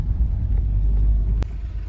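Low rumble of road traffic stuck in a jam of cars and trucks stretching about one to one and a half kilometres, a steady engine drone with a brief sharp knock partway through.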